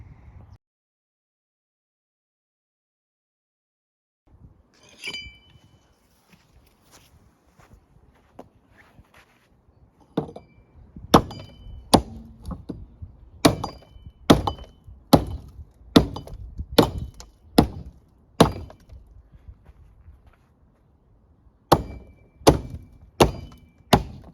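Crowbar forcing open the door latch of an abandoned Lotus, a run of sharp metallic knocks and thunks at steady intervals, growing louder and denser after a quiet start, close by with no talk.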